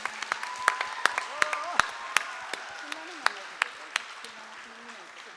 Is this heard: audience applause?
yes